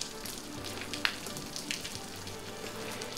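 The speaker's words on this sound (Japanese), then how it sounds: "雨の中" Steady rain falls on an early morning in a rural village district of Okinawa, a soft continuous hiss with a few faint drips, fairly distant and with no voices.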